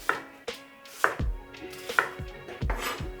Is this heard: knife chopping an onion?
yes